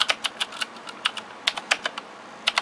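Close, snappy keystrokes on a Razer BlackWidow Expert mechanical keyboard, loud individual clacks in an irregular typing rhythm with short pauses between bursts, heard alone.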